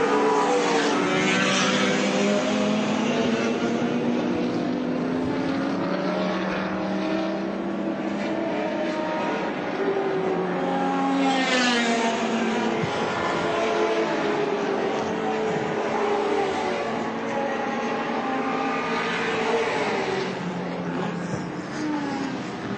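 Touring cars, including big V8s, race at the Lakeside circuit during a 1984 Australian Touring Car Championship round, their engines a continuous loud roar with rising and falling tones as the cars pass and shift.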